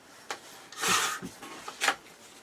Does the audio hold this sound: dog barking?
no